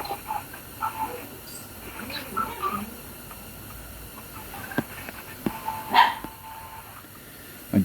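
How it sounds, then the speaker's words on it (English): A dog barks from inside a garage, giving several short yips and barks spread across the stretch, muffled and at a middle distance, with faint voices around it. "my dog's in the garage. And he's not liking it."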